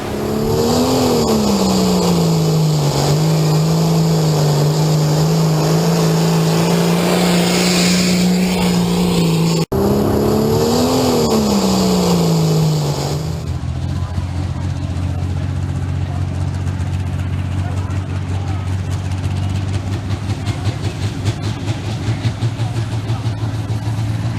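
Lear's Badger, a pulling tractor, roars with a loud sustained engine drone that rises and holds steady for about thirteen seconds, breaks briefly, then drops to a lower, rougher rumble.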